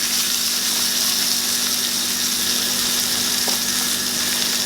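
A dry-aged ribeye steak sizzles loudly and steadily in a hot pan as butter is added, a dense continuous frying hiss with no speech.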